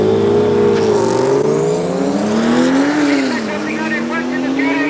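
A BMW and a Toyota 86 launching together at Tarlton International Raceway, loud revving engines climbing and dipping in pitch with a thin high whine, close and continuous under a commentator's voice.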